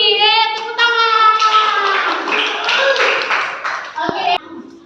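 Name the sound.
children clapping in a classroom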